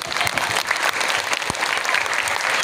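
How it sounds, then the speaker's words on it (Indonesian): A school audience claps during a Maulid Nabi sermon at a junior high in Bandung, brisk, fairly loud applause with scattered sharper claps running throughout. "Tepuk tangan dulu dong."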